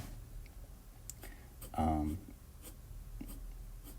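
A Kaweco Perkeo fountain pen scratches across paper in short faint strokes and taps, with one louder scribble in the middle, while a person talks quietly nearby.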